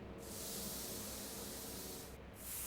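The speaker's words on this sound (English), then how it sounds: "That's some amazing spray work he's got there." Spray painting a car in the Back to the Future video game: a steady hissing aerosol burst that runs for about two seconds, cuts briefly, then resumes, close and even in level with no voices.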